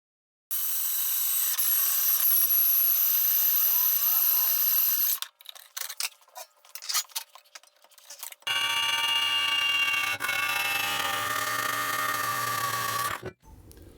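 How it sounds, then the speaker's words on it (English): A bandsaw cuts wooden frame pieces for a rototiller stand: a loud, steady high whine runs for several seconds, gives way to a stretch of uneven clatter, then returns as a second long whining cut before stopping. "I'll take to the bandsaw and cut them off."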